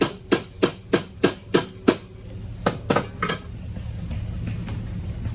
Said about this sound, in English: I'm going to make this bend with the hammer.